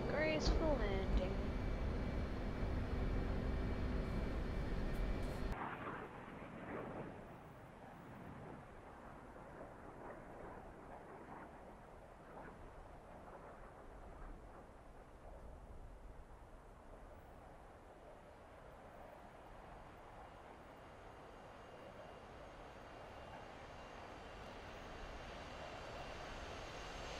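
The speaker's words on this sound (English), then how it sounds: "Nice and great, nice and graceful landing." An airplane coming in to land in a game, its loud engine roar filling the first few seconds before cutting off sharply and leaving a quieter, steady rumbling wash that lingers to the end.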